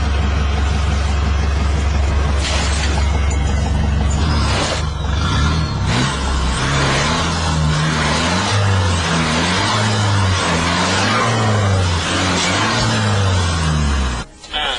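A car drives through mud in rain to test a nano black tire coating, its engine loud and close, droning and revving throughout with rising and falling pitch.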